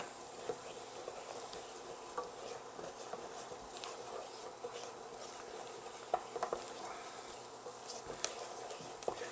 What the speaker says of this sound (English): I'm going to stir to mix it with the fat in the pot.